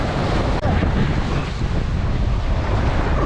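Waves break and wash on a beach while strong wind buffets the microphone in loud, rough gusts, a continuous roar close by with no voices, where a beached boat sits near a cove.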